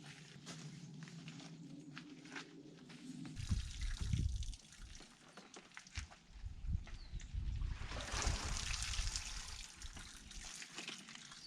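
Water pours and splashes as a tank is drained on an off-grid barn conversion, a steady gushing flow that swells louder toward the end, with bumps and knocks in the middle.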